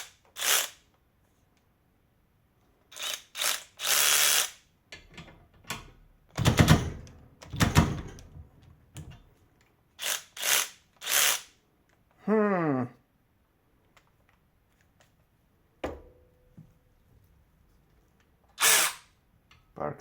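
Ryobi PRW1838X cordless ratchet, smoking but still working, buzzing in short loud bursts separated by pauses, with a few clicks and a brief rising whine in between.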